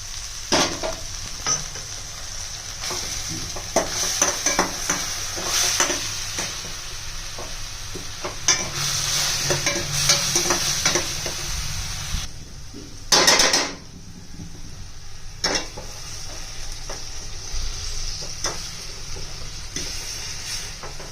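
Vegetables for butter pav bhaji sizzle in a pan while a spoon stirs and scrapes them in repeated bursts, with a louder clatter of pot and utensil partway through.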